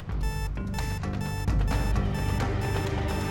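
An electronic alarm on a household safe rings loudly and continuously, a harsh repeating beeping tone with bursts of pulsing that fills the room on its own.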